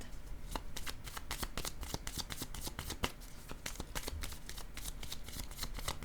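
Tarot cards are shuffled by hand up close, a fast continuous run of crisp riffling flicks that keeps a steady rhythm throughout, with no talking.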